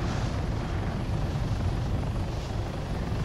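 Helicopter in the game ArmA III flying with the advanced flight model, a steady, loud rotor thump and engine drone that stays constant throughout, with no talking.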